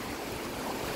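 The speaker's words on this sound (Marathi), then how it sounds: "या साईडने पूर्णपणे पाणी फोर्सने वाहता" Water from an overflowing lake rushes forcefully past, a steady broadband roar that stays close and even for the whole second with no voices.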